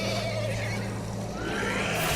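A horse neighs in The Walking Dead: A New Frontier video game, a whinny riding over a steady low hum and background game ambience, moderately loud and continuous.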